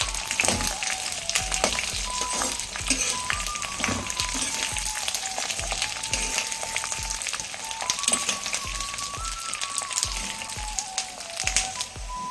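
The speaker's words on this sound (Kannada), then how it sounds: "ಈಗ ಬೆಳ್ಳುಳ್ಳಿ ಹಾಕ್ಕೊಳ್ತಿದ್ದೀನಿ ಚೆನ್ನಾಗಿ ಸಿಪ್ಪೆ ಎಲ್ಲ ತೆಗೆದು ಕ್ಲೀನ್ ಮಾಡಿ ಎತ್ತಿಟ್ಟಿರೋ ಬೆಳ್ಳುಳ್ಳಿನ ಹಾಕ್ಕೊಳ್ತಿದ್ದೀನಿ" Peeled garlic cloves fry in oil for a homemade garlic pickle, giving a steady, dense close sizzle that runs throughout, with a faint tonal hum above it.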